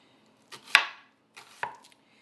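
A knife chops Vidalia onions on a cutting board in two close, sharp bursts of crisp slicing strokes, each a quick cluster of hits trailing into a brief scrape, with silence between and no talk.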